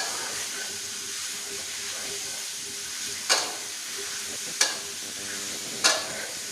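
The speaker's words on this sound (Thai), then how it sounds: "เราจะผัดหมูให้หมูมีกลิ่นหอมก่อนนะคะ ให้เนื้อหมูมีกลิ่นหอมก่อน" Minced pork stir-fried in a pan, a continuous sizzle and hiss with three sharp scraping clatters of the spatula spaced a second or so apart, fairly close.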